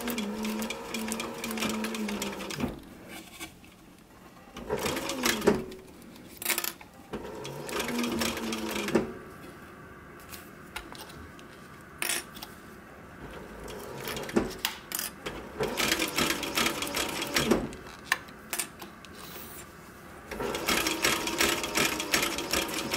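A sewing machine stitches plastic for a sun visor. It runs in loud, close, rapid bursts of stitching with quieter pauses in between.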